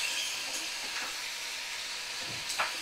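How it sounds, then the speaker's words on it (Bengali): Curry frying with garam masala and being stirred in a pan gives a steady close sizzle and hiss, with a few soft scraping stirs scattered throughout and no voices. "তো সুন্দর করে দেখো আমি কষিয়ে নিচ্ছি"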